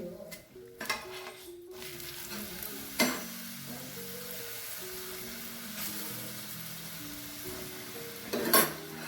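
A ghee-brushed paratha stuffed with kadhi and onion sizzles on a hot griddle, a steady crackling fry with occasional louder scrapes and taps of a spatula, close and alone without talk.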